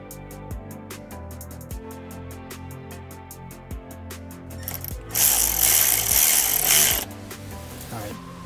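A power tool runs in a steady rapid ratcheting clatter while tightening a brake caliper bolt on a BMW E82 135i, then surges into a louder, harsher burst for about two seconds before easing off.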